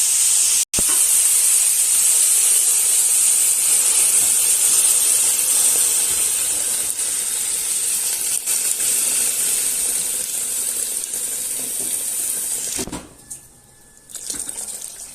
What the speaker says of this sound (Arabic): هسه نضيف عليه الماء.